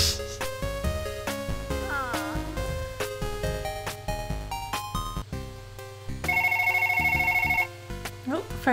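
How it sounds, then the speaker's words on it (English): A repeating electronic telephone ring plays over bright, tonal game music in Sailor Moon on the PC Engine CD, the ring standing out as a steady sustained tone near the end with no talk. "Phone's ringing."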